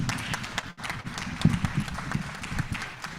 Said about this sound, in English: let's give a round of applause for our participants